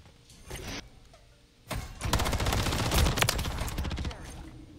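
Rapid bursts of gunfire in a Call of Duty: Modern Warfare 3 ranked match, a short shot early then a dense, loud automatic barrage lasting a few seconds.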